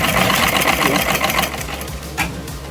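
A sewing machine stitches a kurta in a steady, continuous run, its rapid needle chatter loud and close throughout, easing slightly toward the end with a brief sharp tap near the finish.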